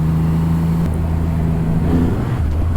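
A Triumph Rocket 3 R with its 2500cc engine runs loud and steady, a low continuous drone that shifts in pitch partway through, with no talk.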